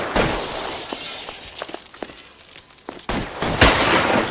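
Shotgun blasts boom in a video game firefight, several loud sharp reports spread through the clip over busy background combat noise, with heavier shots near the end.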